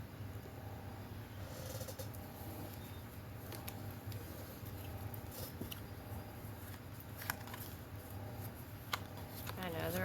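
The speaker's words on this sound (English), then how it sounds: "Why am I shuffling?" Tarot cards are shuffled by hand in a quiet indoor setting, producing soft, continuous riffling and sliding over a faint steady background hum.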